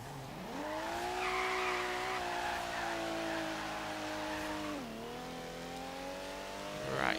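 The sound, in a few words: Lamborghini Countach drifting with tire squeal in video game Forza Horizon 3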